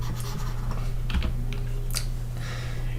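Scratchy rubbing strokes of writing being erased from a board during a math lesson, a few short bursts close by over a low electrical hum, with no talk.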